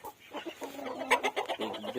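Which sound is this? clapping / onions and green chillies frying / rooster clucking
rooster clucking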